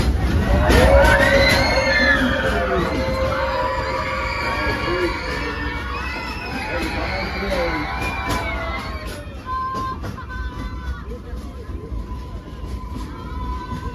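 Passengers in the front car of the Frisco Silver Dollar Line train scream together inside Sweet Mary's Tunnel, a loud crowd of overlapping shrieks that fades after several seconds, leaving rumbling rail noise and a faint tone.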